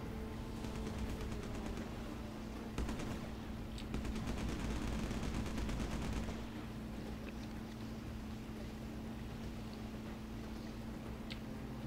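Gunfire from island guns in the video game Battlestations Pacific: rapid rattling bursts over a steady engine and water drone, heavier for a few seconds before fading into the continuous hum.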